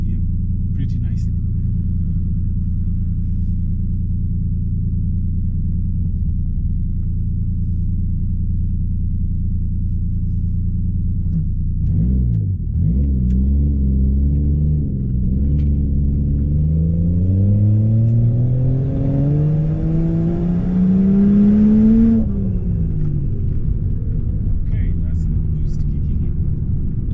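A loud Toyota Supra engine running with no exhaust fitted: a deep, heavy idle rumble fills the cabin, then the revs climb steadily into a rising drone that peaks and drops back to a low idle, with a voice talking over it.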